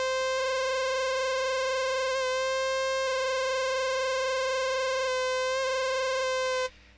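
Novation Circuit synth holds a steady pulsing tone with a rich stack of buzzy overtones, an LFO set by a macro knob bending the pitch in periodic sweeps, then cutting off near the end, with no voices.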